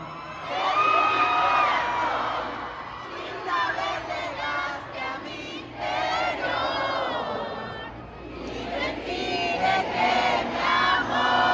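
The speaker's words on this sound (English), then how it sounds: "give us another scream!" A large concert crowd at an arena in Mexico City screams and cheers in loud, surging waves of high-pitched shouts, briefly dipping before rising again.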